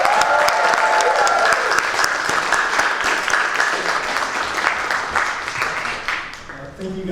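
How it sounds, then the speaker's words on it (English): Audience applause after a jazz performance, a big sustained round of clapping with a few voices mixed in, gradually thinning and fading toward the end. "Let's give them a big round of applause."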